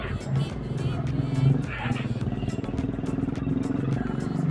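A motorcycle rides through traffic on C5 (Circumferential 5 Road, Carlos P. Garcia Avenue), its engine a steady droning hum with surrounding road noise, while someone talks over it throughout.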